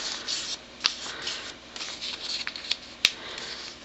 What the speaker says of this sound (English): we're going to start by folding the copy paper circle into quarters